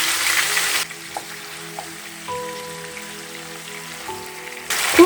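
Marinated chicken hitting hot oil gives a loud sizzle at first, then settles into a quieter steady frying hiss with faint tonal hums, before the sizzle flares up loudly again at the end.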